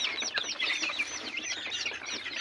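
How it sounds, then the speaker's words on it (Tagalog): A dense crowd of baby chicks peeps close by in a steady chorus of high, overlapping chirps, with a few soft clucks mixed in. "sobrang dami na yung mga sisiw natin dito mga kapagaw"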